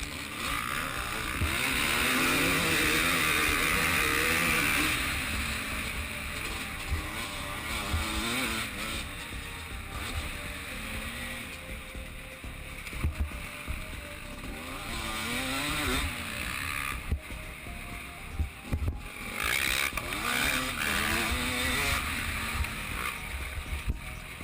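A stock 2013 Husqvarna WR300 enduro motorcycle revving hard during a drag race, its two-stroke engine droning loud and steady, rising and falling through gear changes over a long run.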